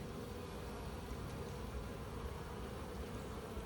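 A honeybee swarm gathered at a hive box hums in a dense, continuous buzz as the bees begin fanning together, a soft, even drone with no voices over it.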